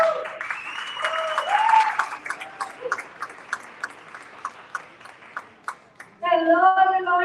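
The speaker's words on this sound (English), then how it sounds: "Give her a round, warm applause." Live audience applauds to welcome someone speaker onto the stage at a self-improvement talk, a dense burst of clapping that thins into scattered claps before a bright electronic jingle cuts in.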